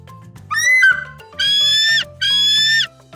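Eagle call: three loud, clear screeching cries, the first rising and the next two long and level, each separated by short pauses over soft background music.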